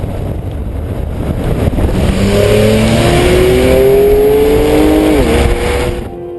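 A 2011 Porsche 911 GTS launches hard from a standstill, its engine note climbing steadily in a loud, continuous rising pitch before a brief shift-like dip and tailing off near the end; no talking.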